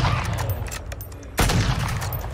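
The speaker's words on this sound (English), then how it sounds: "But he's going to get immediately shot." Gunfire in a Call of Duty 4v4 match, rapid close shots and bursts with one loud sharp crack partway through, over dense game noise.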